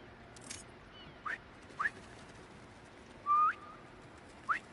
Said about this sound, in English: Try a whistle.